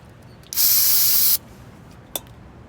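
A single loud burst of degreaser sprayed onto a bicycle disc brake rotor, lasting just under a second and followed by a brief faint click.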